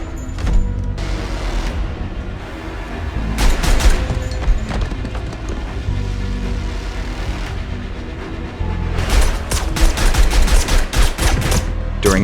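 Gunfire in a film scene where assassins attack a house: loud, close bursts of rapid shots, one burst near the start-middle and a longer volley of cracks toward the end, over a dense, rumbling background.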